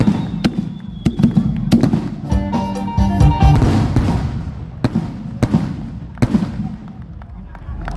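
Bang fai rocket launch at a Thai village rocket festival in Bua Khok, a loud roaring whoosh rising over a few seconds amid sharp firecracker pops, with an announcer talking over a PA throughout.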